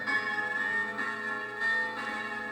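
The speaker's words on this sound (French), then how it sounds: "les cloches de Pâques" Easter church bells ring steadily with rich overlapping tones, a continuous resonant peal.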